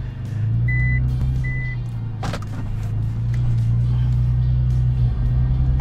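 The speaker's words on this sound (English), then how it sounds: "The return of the beeping." Reversing beeps from a vehicle sound twice in quick succession over a steady low engine rumble, followed by a brief clatter.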